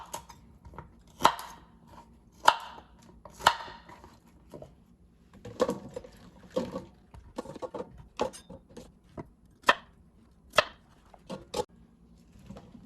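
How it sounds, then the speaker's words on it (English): A knife chops cauliflower, stem included, into rice-sized bits on a cutting board: irregular sharp thunks with quicker clusters of lighter taps in between, close and clear, with no voices. "now that our cauliflower is all cut up"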